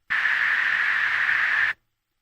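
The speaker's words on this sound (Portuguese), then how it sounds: "eu posso criar frequências simplesmente filtrando os sons que eu quero escutar de um ruído branco" A band of filtered white noise hisses at a steady level for about a second and a half, a bright, even rush that starts and stops abruptly, followed by silence.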